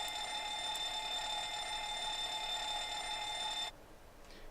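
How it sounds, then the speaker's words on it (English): The cockpit fire alarm of a Boeing 737 MAX under test in Microsoft Flight Simulator 2024: a loud, continuous electronic ringing tone that holds steady for several seconds, then cuts off abruptly, leaving a quiet room. "let me know if you guys could hear that fire alarm"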